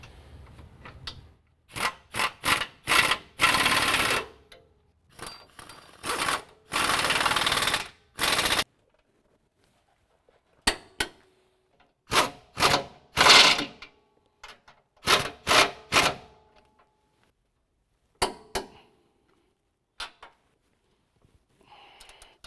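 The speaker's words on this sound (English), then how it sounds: "So now we're going to tighten down our two top bolts." Air impact wrench running down the two top 18 mm bolts while fitting a Superlift 6-inch 4-link lift kit to a 2017 Ford F-250 Super Duty. Loud close bursts of rapid hammering rattle come in short and long runs with silent gaps, and no talk.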